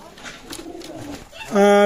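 Shiyalkuti running pair pigeons at a market: a loud, close coo rises sharply near the end, after a stretch of people talking.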